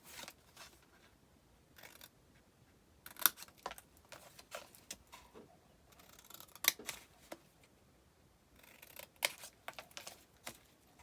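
Scissors snip out the four corners of a sheet of paper for an album cover base, a series of quiet, crisp cuts in small irregular clusters with near-silent gaps between them.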